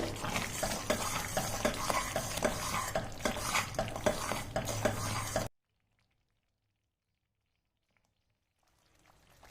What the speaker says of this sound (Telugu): మనం పులిహోర గుజ్జు ఎలా ఉంటుంది అలా చిక్కగా అయ్యేంత వరకు లో ఫ్లేమ్ పెట్టుకొని ఉడికించుకోవాలి.